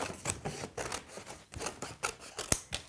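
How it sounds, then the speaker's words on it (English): A series of crisp snips and rustles close by, scissors cutting through paper in short irregular strokes. "scissors into the hole and cut that big area out"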